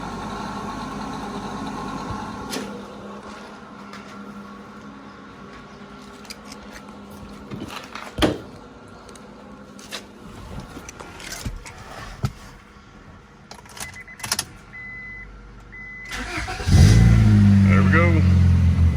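A Honda Accord engine catches after a 12-volt jump-start boost and settles into a loud, steady idle near the end, following quieter clicks and scrapes of handling beforehand.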